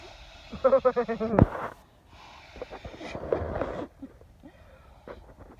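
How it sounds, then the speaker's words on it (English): Forceful breaths blown into an inflatable NeoAir sleeping pad on a long-distance hiking trail, a run of close, loud puffs followed by quieter, softer exhalations. "How many breaths does it take to blow up a Neo Air?"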